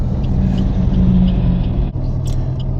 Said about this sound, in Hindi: गाड़ियों ने अपनी रफ्तार लेके रखी है